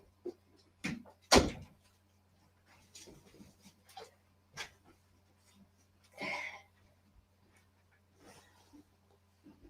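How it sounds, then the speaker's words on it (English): Quiet, scattered scrapes and thumps of a puppy scratching at a door, a few sharp knocks and a brief whimpering burst between stretches of near silence. "My puppies is scratching at the door."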